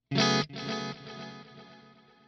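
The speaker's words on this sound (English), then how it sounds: "we're using the Criss Cross delay" A guitar chord processed through a Criss Cross delay on a Line 6 Helix rings out sharply, then repeats as a softer delayed echo that trails off and fades.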